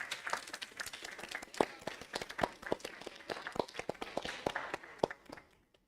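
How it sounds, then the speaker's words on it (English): At a degrowth conference panel in Zagreb, a scattered round of applause for the speakers rises from a room audience, with individual claps crisp and uneven, fairly close and moderately loud, tapering off at the end. "let's do one big round of applause for our speakers,"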